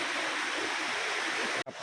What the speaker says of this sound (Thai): น้ำไหลแรง นะครับ